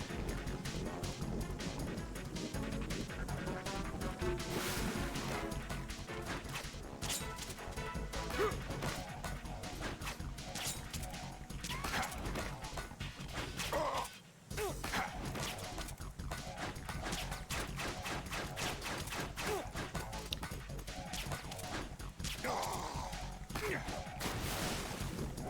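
Gunfire and shattering lights in the stealth video game Metal Gear Solid 2: Sons of Liberty, a dense, continuous barrage of crashing, smashing game noise that stays loud throughout, with a brief drop to near silence midway.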